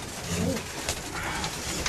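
A pigeon in a racing-pigeon loft coos softly, a low throaty call heard among faint rustling and ambient room noise.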